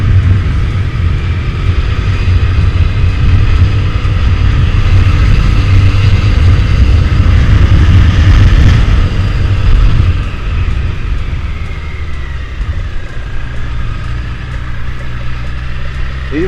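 A Yamaha FZ1S motorcycle engine runs while riding, a loud, steady low rumble mixed with wind roar that eases off slightly partway through.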